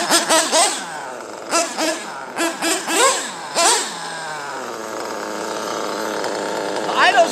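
A small two-stroke chainsaw engine, still cold, blips through several quick rising revs, then settles into a steady, slightly high idle before picking up again at the end, loud and close.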